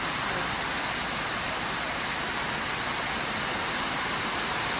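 Steady rain falls outdoors at a yard where dump trucks are parked, a dense, even hiss with no breaks and no voices.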